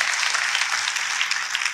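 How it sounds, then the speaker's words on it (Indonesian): Lively applause from a church congregation, a steady dense wash of many hands clapping together for the whole short stretch, with no talking over it. "Kita kasih tepuk tangan yang paling meriah."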